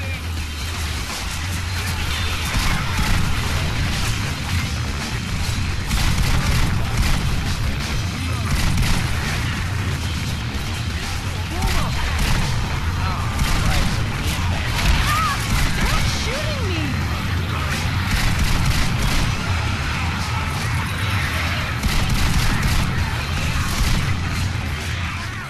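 Rapid gunfire and loud blasts from a Left 4 Dead 2 co-op campaign in The Parish, a dense, continuous barrage with booms and whooshes over a low rumble, with voices talking throughout.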